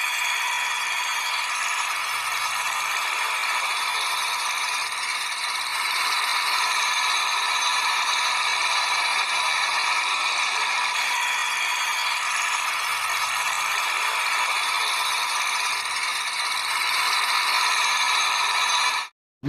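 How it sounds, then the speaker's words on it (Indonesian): A Solar General WP30CX 3-inch diesel water pump runs steadily with a loud, rough mechanical rattle and whir, continuous and close, ending abruptly, with no talking. "kita langsung aja lihat seperti apa bunyi dari WP30CX Strip D ini"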